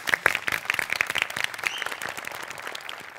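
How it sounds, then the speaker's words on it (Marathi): Audience applause fills an award ceremony hall, dense and steady clapping from a crowd, starting strong and tapering slightly over a few seconds. "टाळ्या."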